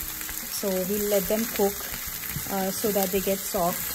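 Eggplant and vegetables cook in a Thai curry with a steady soft sizzle and bubble beneath a person talking close by.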